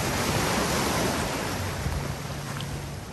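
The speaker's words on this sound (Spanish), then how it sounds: "el mar está bravito. Están habiendo unas pequeñas olas" Small waves of a rough sea breaking at Aguadilla, Puerto Rico, a steady broad wash of surf with wind noise on the microphone, loud and continuous.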